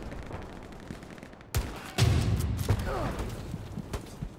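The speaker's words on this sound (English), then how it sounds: "Fucking artillery" Artillery fire strikes during a World War II battle in the game Hell Let Loose. Several sharp, loud blasts land a second or so apart, mixed with crackling gunfire and a rumbling aftermath.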